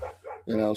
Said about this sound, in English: They're barking at him out there. It's not our dog, it's a neighbor dog.